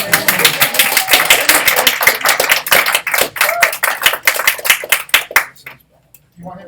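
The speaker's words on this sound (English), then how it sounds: "It's okay, you can applaud." An audience at a keynote event claps in a dense, continuous burst of applause that stays loud for several seconds, then thins out and stops abruptly near the end.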